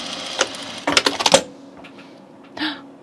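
A short burst of rapid needle clatter from a sewing machine stitching the ends of a shirt piece, preceded by a lone tap and followed by quieter handling sounds and a faint whirr.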